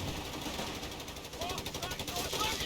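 Machine gun fire in the Company of Heroes 3 strategy game, rapid bursts of shots with a dense battle din behind them, steady and fairly loud, with a voice talking over it.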